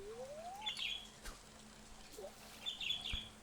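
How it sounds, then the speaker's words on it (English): Birds in the Stardew Valley video game chirp in short, faint bursts over a soft steady background, with a few scattered calls across a few seconds. "you guys hear the birds in the background"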